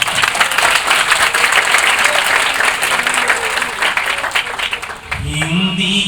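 A Hindi Diwas poetry audience breaks into loud, dense applause that fills the hall for several seconds, then tapers off as a voice begins to speak.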